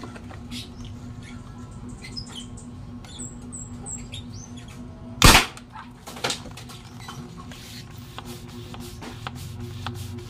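A toy gun fires one sharp, close snap over a quiet background, followed about a second later by a fainter knock, with faint chirps scattered around.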